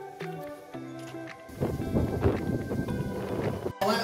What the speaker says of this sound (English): Windy one out there